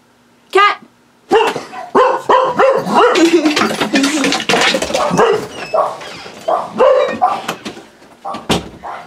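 Several dogs bark loudly and close by in a home, a burst of rapid, overlapping barks and yips that rises, fades and flares again, ending with one sharp bark.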